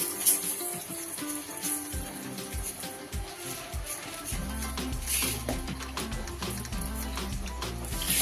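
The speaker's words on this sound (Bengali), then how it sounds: "কড়াইটাতে আমি ছোট 1 বাটি জল দিয়ে দিলাম।" Water is poured into a wok (kadai), a gushing, bubbling splash that grows fuller and steadier partway through and continues to the end, fairly close.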